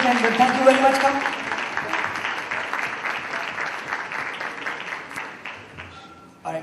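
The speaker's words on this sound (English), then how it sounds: "Big round of applause, ladies and gentlemen." An audience claps in a sustained round of applause at a charity event where celebrities sing for underprivileged children, fairly loud and steady before fading out toward the end.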